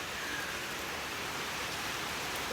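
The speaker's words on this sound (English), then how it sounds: "It's raining." Rain falling outdoors, a soft, even hiss of drops without breaks or distinct patters, fairly quiet and unchanging throughout.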